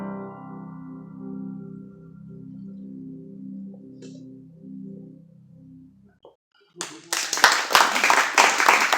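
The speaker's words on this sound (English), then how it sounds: "Come on, one more round of applause." Audience applause breaks out loudly after sustained instrumental music fades, dense clapping that swells and continues to the end of the clip.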